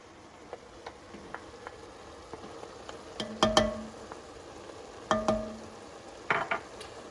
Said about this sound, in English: we're going to add the garlic and ginger straight into that well. We'll let that sit there, and we're going to let that cook for 3 minutes.